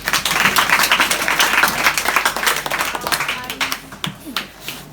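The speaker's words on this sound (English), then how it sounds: "Give yourself a round of applause." Students at a school clap a round of applause for themselves. Individual hand claps stand out near and loud in an uneven, lively patter that gradually loosens and thins into scattered claps with a few voices at the end.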